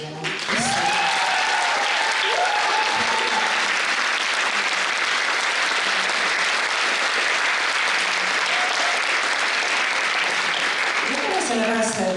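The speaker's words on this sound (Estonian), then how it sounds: "Ma arvan, et teeme suur aplaus neile." An audience at a fashion show breaks into sustained, loud applause that stays thick and even throughout, with a few voices heard briefly at the start and near the end.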